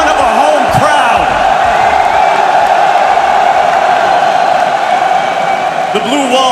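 A home crowd roars continuously for K-Corp's Rocket League championship win, a dense sustained wall of cheering and whooping at an esports arena, loud and unbroken throughout with scattered shouts rising above it.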